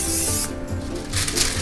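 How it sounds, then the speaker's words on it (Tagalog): Cooking spray hits a baking tray in two short hissing bursts separated by a brief pause, close and fairly loud, with no talking. "cooking spray"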